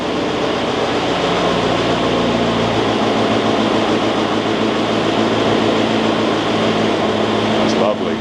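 A Caterpillar diesel engine running steadily, a loud constant mechanical drone held evenly throughout with no voices.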